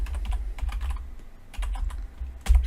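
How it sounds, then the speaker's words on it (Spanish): Clicky computer keyboard typing in uneven bursts of keystrokes, close and fairly loud, with short pauses between runs and no voices. "imaginemos que la estamos tecleando en estos momentos"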